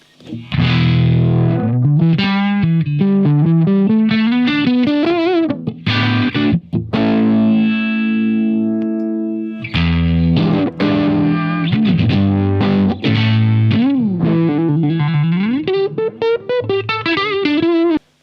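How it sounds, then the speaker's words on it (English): An electric guitar plays chords and melodic runs through an MXR Univibe pedal's warbling, pulsing modulation effect, loud and up close, with a brief pause midway. "Next up, we have the MXR Univibe, which I really rarely use."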